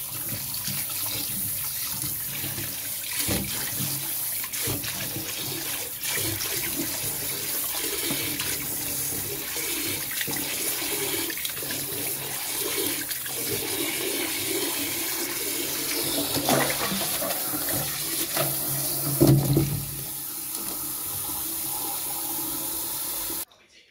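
Steady running water pours from a tap into a sink, continuous and close, with occasional splashes and clinks as arrowroot is rinsed.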